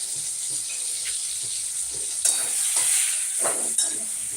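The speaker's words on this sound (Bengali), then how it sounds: "ভালো করে হালকা ভেজে নিচ্ছি" Paneer lightly frying in a pan gives a steady close sizzle and hiss, with a few stirring scrapes and louder bursts near the end and no talking.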